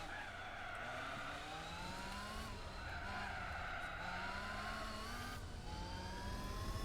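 A race car in Gran Turismo 4 skids and spins out at about 180 mph after contact from a Bentley, a sustained, loud tire squeal wailing over steady engine drone for several seconds.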